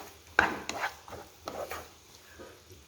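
Cut green chilies and tomatoes go into a pan with ginger and garlic for a soybean curry, giving a few close clattering drops and scrapes followed by a soft sizzle and stirring.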